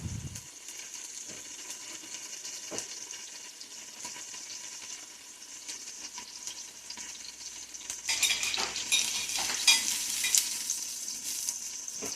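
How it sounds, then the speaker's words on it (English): Quiet kitchen sounds with food sizzling in a pan and occasional clinks and stirring, the frying growing louder toward the end. "the background sounds of like the cooking noises"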